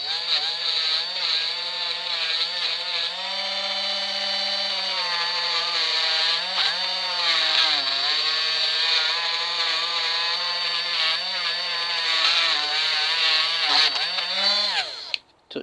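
A Parkside cordless multi-grinder buffs silver with a continuous high whine whose pitch wavers as the load shifts, close and fairly loud, then winds down abruptly at the end.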